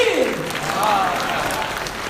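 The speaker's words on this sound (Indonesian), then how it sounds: "tepuk tangan buat ibu Dewi" An audience at a Ramadan iftar gathering claps in a short burst of applause, with a voice speaking over it.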